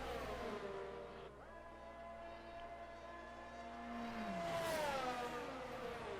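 Virtual F1 22 race cars in a Japanese Grand Prix, engines whining and revving as the cars drop speed into the pits, with several overlapping tones that slide down in pitch, moderately loud and without speech.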